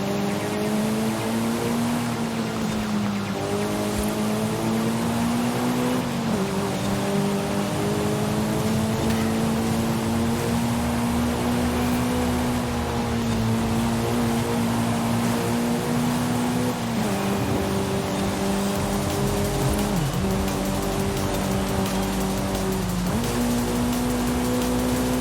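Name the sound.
Nissan Z engine revving in video game Forza Horizon 5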